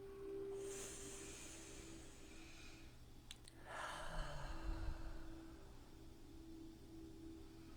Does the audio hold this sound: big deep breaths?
yes